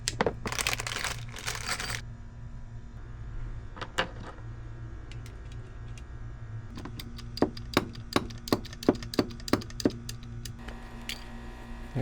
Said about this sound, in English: I'll make the cut and crimp and heat shrink